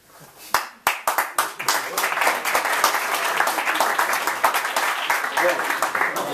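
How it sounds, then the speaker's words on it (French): An audience at an anniversary event breaks into applause, starting with a few scattered claps and swelling into sustained, dense clapping from a crowd, loud and fairly close, with voices faint underneath. "et là on applaudit."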